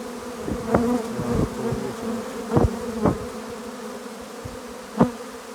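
A honeybee swarm being put into a hive gives off a steady, close buzz, with several individual bees droning louder as they pass near. No one speaks.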